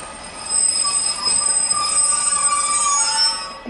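A Class 156 diesel passenger unit runs past a station platform on the Midland Main Line at Attenborough, giving a steady, loud rolling rumble with high-pitched wheel squeal throughout and no speech.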